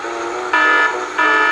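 An alert system buzzer sounds in a diesel locomotive cab, a steady harmonic tone with a softer stretch followed by two louder bursts, close and alone with a low background hum.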